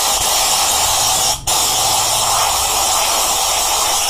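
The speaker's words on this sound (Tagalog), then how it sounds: "Spray muna ngayon." A spray can hisses onto a Suzuki GD110 motorcycle engine during a stator coil repair. The loud, close, steady spray stops for a moment partway through, then carries on alone.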